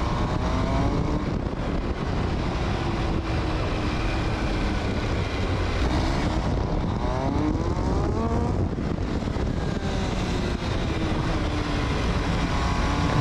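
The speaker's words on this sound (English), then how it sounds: "Open the throttle, open the throttle." An MV Agusta Dragster 800 RR motorcycle roars as the throttle opens, its loud engine note climbing in rising and falling sweeps over steady wind rush, with no voices.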